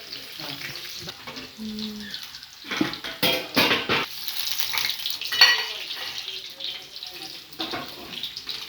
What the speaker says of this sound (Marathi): तेल वडे झाले आमचे तळून